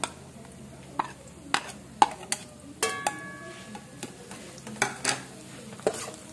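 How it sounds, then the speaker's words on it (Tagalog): Bagoong alamang, shrimp paste, frying in a hot pan, with a quiet sizzle under repeated sharp taps and scrapes of a utensil stirring against the pan. "Tapos ilalagay na natin yung ating bagoong alamang para maluto siya."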